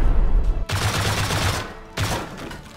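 Rockets fired at a base in the video game Rust, two loud, sustained roaring blasts in quick succession, close and harsh.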